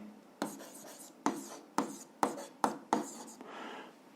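Pen strokes on paper while jotting down math coordinates, a series of sharp scratchy marks in quick bursts with short gaps between, close and clear, no voice over them.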